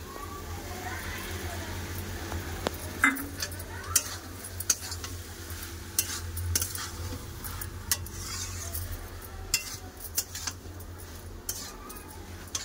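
Fried shrimp coated in mustard-poppy seed paste is stirred in a pan, giving a soft, steady sizzle with scattered scraping and utensil clicks, close and fairly quiet, with a low hum and faint voices in the background.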